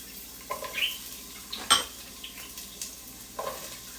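Onions dropped into a pot of hot olive oil, giving a few soft sizzling bursts and light clinks of a utensil against the pot, fairly quiet with no talking.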